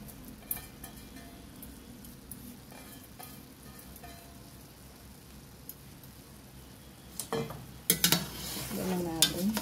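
Rice grains stirred and sautéed in a pot for arroz caldo, a soft scraping and faint sizzle running steadily, then louder clinks and stirring bursts near the end.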